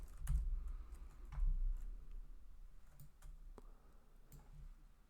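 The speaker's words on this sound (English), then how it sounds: "If I start typing in and editing things" Fingers type on a computer keyboard while editing code, producing irregular bursts of soft clicks and taps, close and fairly quiet, with short pauses between runs of keystrokes and no speech.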